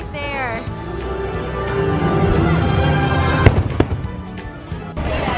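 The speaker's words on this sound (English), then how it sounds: "Fireworks are going on." Fireworks bursting over Disney World near the Big Thunder ride on a cold evening, a steady rumble of blasts with a few sharper cracks standing out midway, heard under crowd noise and some talk.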